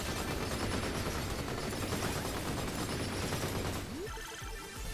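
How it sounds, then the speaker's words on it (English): Multi-stage missiles fire in a video game as a dense, sustained rattle of rapid shots that fills most of the stretch, then drops to scattered bursts and crackles near the end. "Hey, multi-stage missiles."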